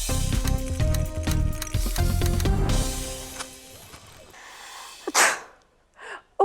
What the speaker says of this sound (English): Now you are sneezing badly.